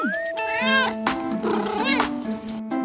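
A cat meows repeatedly, a string of clear, rising and falling cries at close range, with short gaps between them and no talking.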